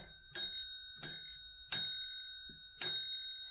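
An original doorbell in an old house rings four times in a steady series of sharp metallic strikes with a sustained bright ringing tone, clear and close with no talking.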